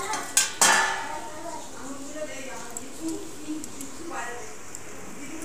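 Pieces of papaya tip into a pot of mung dal with a couple of sharp metallic clatters near the start, followed by soft stirring and scraping while someone talks over it.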